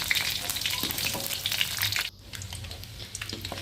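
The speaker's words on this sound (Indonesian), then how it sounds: "Kita goreng sampai kering ya teman-teman." Tofu crackles and sizzles steadily in hot oil, close and bright with spattering pops, the frying dropping abruptly quieter for a moment before resuming at a lower level.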